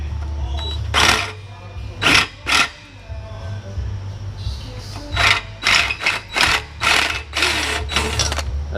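A drill boring a hole for a wideband oxygen sensor bung in a Mazda Miata exhaust, close and loud in short bursts, some brief and some longer, over a low steady hum.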